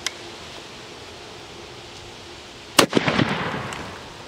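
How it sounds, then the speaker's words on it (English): A muzzle-loading shotgun fired at a pumpkin outdoors: one sharp, loud blast after a quiet wait, followed by a brief rattling, rustling tail of debris and echo. "Take a shot at that pumpkin, not sure where it's gonna hit"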